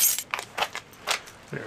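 Small metallic clicks and jingles from unlocking a lock on a Mossberg 500 shotgun, a few short, close taps and rattles spread over under two seconds.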